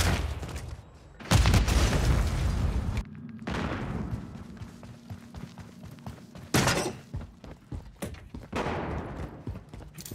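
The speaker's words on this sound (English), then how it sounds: "Throwing flash grenade!" A flash grenade thrown in a shooter video game, with sharp booms and bursts of gunfire in a chaotic firefight, loud concussive blasts punctuating sustained crackling shots.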